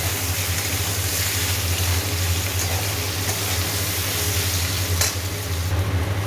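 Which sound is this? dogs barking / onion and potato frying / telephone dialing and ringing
onion and potato frying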